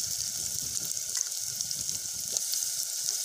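Green chillies and curry leaves sizzle steadily in hot oil in a pan, a continuous bright frying hiss with faint low stirring knocks beneath, no voices.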